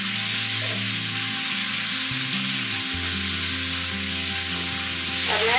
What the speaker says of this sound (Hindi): मैंने कद्दू ज्यादा लिया है, टमाटर, अच्छा मिक्स करते हैं इसको।